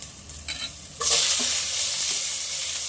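Tomato hits a hot pan and starts frying, a sudden loud hiss that sets in after a few soft clinks and then holds as a steady, close sizzle with no voices.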